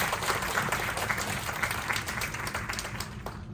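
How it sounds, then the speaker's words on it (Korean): Audience applause at an education admissions-strategy seminar welcoming the next presenter, a steady crowd of clapping that holds evenly throughout without any speech. "박수로 맞이해 주세요."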